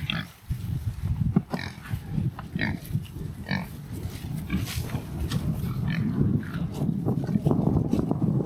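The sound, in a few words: pigs grunting in farm paddock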